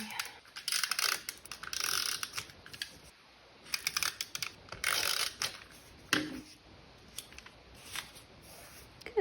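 Tape pulled and pressed down onto a journal page during a backfill session: repeated crisp tearing and crackling bursts in quick clusters, close and fairly quiet, with short pauses between strips.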